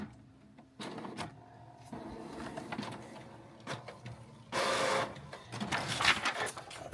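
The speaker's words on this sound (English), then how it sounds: "we're going to do a nozzle check right now" A Canon G7020 inkjet printer runs a nozzle check print, with soft whirring, clicking and sliding carriage movements, then a louder burst of paper feeding, all fairly quiet and close.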